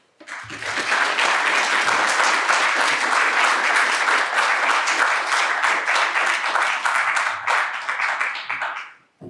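An audience welcoming Dean Rosario Sabajo to a lecture with loud, dense applause, building quickly and sustained for about nine seconds before fading out.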